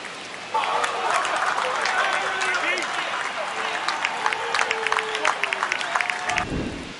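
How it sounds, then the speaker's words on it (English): A packed home baseball crowd roars and cheers at a Yankees versus Tigers game. The dense swell of noise stays loud and sustained throughout, with scattered claps and shouts, and a commentator's voice runs faintly beneath it. "And just like that, they're within a run. Here comes the crowd."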